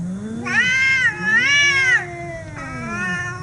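Several cats meow and caterwaul in long, rising and falling wails, one after another, loud and close with no talk.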